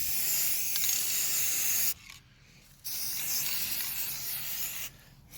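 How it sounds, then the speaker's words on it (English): Aerosol spray paint can hissing steadily onto a chair during a DIY makeover, close and fairly loud, in two long bursts separated by a brief pause. "Make sure when you spray paint, don't have that run effect."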